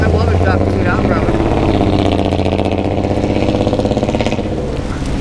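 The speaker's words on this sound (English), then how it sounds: "There goes that loud exhaust I always hope to find." A loud, rumbling vehicle exhaust roars steadily throughout, with a deep idling engine tone and people talking over it.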